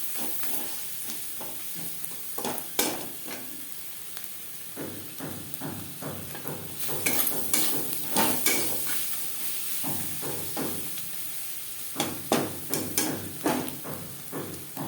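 Onions with turmeric, salt and green chillies sizzle in a pan, with a steady hiss broken by repeated scraping stirs and spatula knocks, close and moderately loud, no talking.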